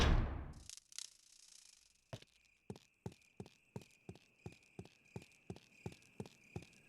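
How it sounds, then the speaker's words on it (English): Crickets chirping in the Resident Evil (2014) video game, a steady series of clicking chirps at an even rhythm after a brief burst of noise at the start, fairly quiet overall. "the crickets are a bit loud in that part"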